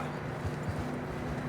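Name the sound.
horse hooves approaching in Red Dead Redemption 2 video game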